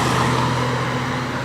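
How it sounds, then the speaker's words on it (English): A car passing close by on a road near a railroad crossing, a broad steady roadway rumble that fades slightly as it moves away, with no talking. "I'll wait for this car to pass by."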